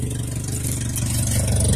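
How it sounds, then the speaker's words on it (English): A 1995 Ford Ranger XLT pickup idles close by, its exhaust giving a steady, even low rumble with no break and no voices. "I love that exhaust sound."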